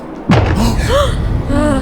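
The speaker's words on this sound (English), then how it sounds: "It's definitely a gunshot." A single sharp boom of a gunshot hits suddenly and loudly near the start, followed by voices talking over the fading sound.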